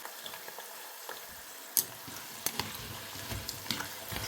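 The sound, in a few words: sweetened plantain chips frying in bubbling oil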